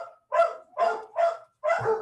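An untrained dog barks four times in an even rhythm, close and fairly loud, each bark sharp and short with short silent gaps between, no voices.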